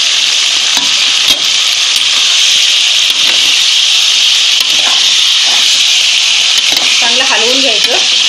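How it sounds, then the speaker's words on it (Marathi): Marinated chicken with salt and garam masala sizzles loudly and steadily in a pan over high heat, a dense continuous hiss, with a few spoon scrapes and a brief voice near the end. "आता आपण हे टाकून घेऊया. गॅस मी फास्टच ठेवलाय."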